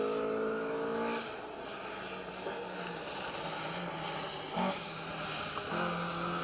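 A Datsun 1600 SSS rally car engine drones and revs on a stage of the Roger Albert Clark Rally, a steady, fairly distant buzzing note that shifts pitch as it accelerates.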